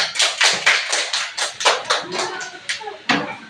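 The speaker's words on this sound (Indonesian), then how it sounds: "Tepuk tangan untuk kelompok 3" A small audience in a classroom session claps for group 3, with about a dozen distinct, close claps in a loose, uneven rhythm and no talking.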